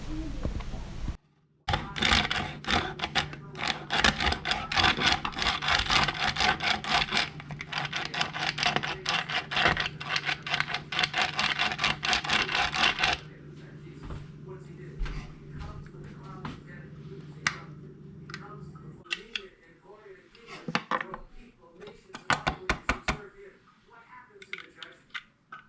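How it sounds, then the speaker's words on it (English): Rapid rattling and crunching from a Chefin garlic chopper chopping garlic, dense and close for about twelve seconds, then sparse scattered clicks and knocks as the work slows. "this is going to chop the garlic"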